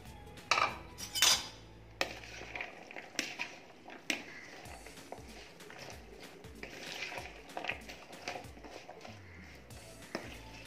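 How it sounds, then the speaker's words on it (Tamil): Vegetables, chicken, biryani masala and squeezed lemon are mixed by hand in a bowl for veg biryani, with a few sharp clinks of a utensil against the bowl early on, then soft, steady scraping and stirring close by. "இப்போ நான் இந்த பவுலில் வந்து இதெல்லாம் போட்டு கலந்துக்கிறேங்க"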